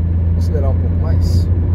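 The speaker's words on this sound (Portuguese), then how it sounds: "Vou acelerar um pouco mais." A car's engine hums steadily while accelerating along highway RS 344 in Rio Grande do Sul on a humid morning, a constant low drone with someone speaking over it.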